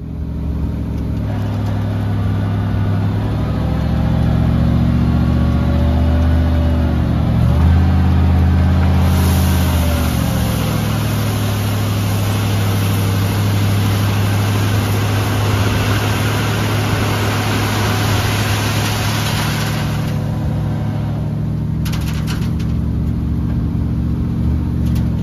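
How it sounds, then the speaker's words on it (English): A dump truck engine runs steadily while driving, a loud low rumble with a pitch shift as it changes gear, continuous for the whole stretch with no talking. "And Ellison got to ride in the dump truck"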